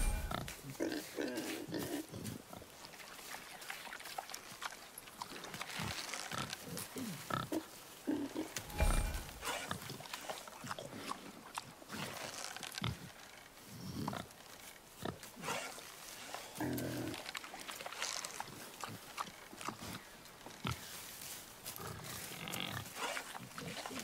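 Wild boar in the God of War video game grunting and snorting in repeated rough bursts, fairly loud and close, with game sounds and a little talk mixed in.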